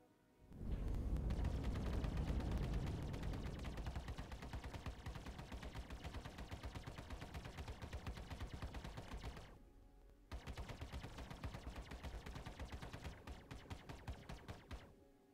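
Stock Hornet Ghost fighter's ship weapons firing in Star Citizen: a loud, sustained stream of rapid gunfire-like bursts with a booming low end, briefly cut off near the ten-second mark before resuming.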